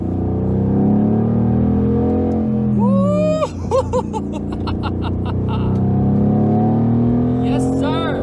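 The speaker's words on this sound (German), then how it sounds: "ihr könnt so langsam schon mal raushören, dass der AMG GTR von Sievers Performance sich gar nicht mal so schlecht anhört." Tuned Mercedes AMG GT R from Sievers Performance accelerates with a deep rising engine drone, then blips through downshifts with sharp crackles and pops, loud and close, with a voice laughing and talking over it.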